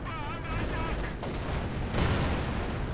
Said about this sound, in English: Fire the main weapon!